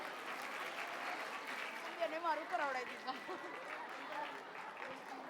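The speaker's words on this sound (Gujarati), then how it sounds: "તાળીઓ રૂકવી નહીં જોઈએ." An audience applauds at a school annual function, steady clapping of many hands heard moderately from a distance, with a speaker's voice over it and a brief swell of louder clapping midway.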